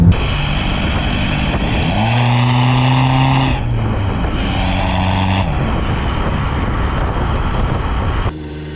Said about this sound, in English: We got the GoPro in the engine bay. We're gonna see how it sounds.